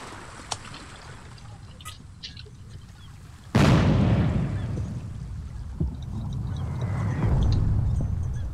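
A mortar high-explosive round fires and detonates in the war game Foxhole, a sudden heavy boom with a long rumbling tail that trails off, preceded by faint distant pops and thuds.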